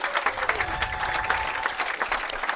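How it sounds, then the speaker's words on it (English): Crowd applause for competitors at a professional women's bowling championship, steady clapping with a few voices rising over it. "How about another great big round of applause for all of our competitors?"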